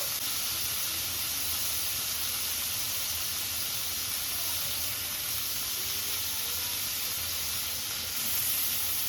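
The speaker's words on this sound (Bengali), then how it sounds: "এবার আমরা সাইডগুলো ভেজে নেবো" Pakistani adana kebab frying on its sides in a pan, a loud, steady sizzling hiss that stays even and unbroken throughout, with no voices.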